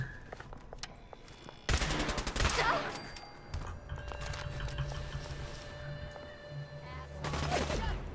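Rapid bursts of gunfire ring out in a Fallout 4 fight against raiders, loud volleys of shots with clattering impacts, then quieter scattered pops before a final heavy burst.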